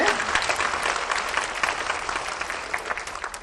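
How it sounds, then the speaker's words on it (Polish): An audience at a school literary contest award event claps steadily, a moderate wash of applause that continues evenly and tapers a little toward the end. "Brawa dla niej duże."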